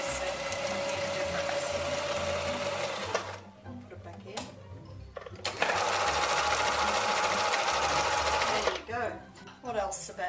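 A sewing machine with a repaired reverse button and zigzag cam runs at low speed in two steady, close bursts separated by a short pause, with people talking quietly underneath.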